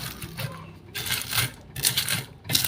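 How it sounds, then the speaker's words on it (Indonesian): Dried chili sambal is ground in a stone mortar, giving uneven crunchy, gritty strikes and scrapes in quick bursts, fairly close and moderately loud. "Diulek wis krepes-krepes."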